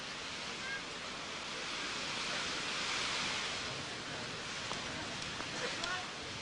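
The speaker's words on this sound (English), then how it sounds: "It's really windy down here now, much windier than ever in the rest of the match, and Wilander's just playing it safe." Strong wind gusting across an outdoor clay tennis court during a professional match, a steady broadband roar that swells and eases, with faint crowd background and a commentator's voice low underneath.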